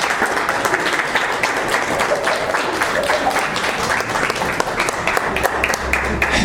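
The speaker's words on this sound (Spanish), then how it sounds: "le damos un aplauso al Señor Jesús" A standing church congregation claps and applauds steadily and loudly throughout, a dense wash of hands with faint voices mixed in.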